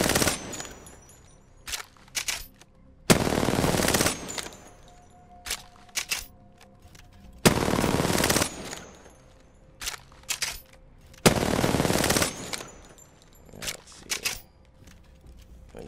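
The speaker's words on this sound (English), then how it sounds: "I recommend you fire off all the guns just to get a feel for them" An R99 submachine gun fires in Apex Legends on PS4 in several sharp automatic bursts, each a loud rapid rattle lasting about a second, separated by quieter pauses and small clicks.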